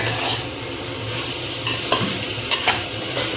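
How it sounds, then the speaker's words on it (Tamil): Chilli chicken frying and being stirred in a pan, a steady loud sizzle with repeated scraping strokes of the spoon, no voices. "நல்லா கிளறி விட்டுக்கோங்க."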